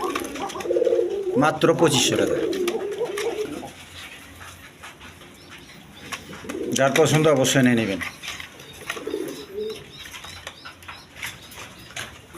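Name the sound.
pigeons cooing and flapping wings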